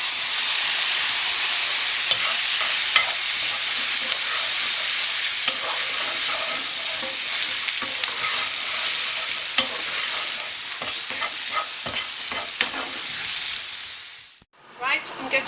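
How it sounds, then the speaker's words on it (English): Browned onions and garlic frying in a pan for a chicken balti and Bombay potatoes, a loud, steady, close sizzle with stirring scrapes throughout, cutting off abruptly near the end. "now my onions have started to brown, I'm going to add my garlic, and I'm going to cook this for 1 minute"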